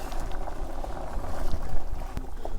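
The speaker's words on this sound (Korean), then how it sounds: "보글보글보글하다" Curry made with meat and potatoes boils loudly in a pot, giving a dense, continuous bubbling and gurgling up close without pause.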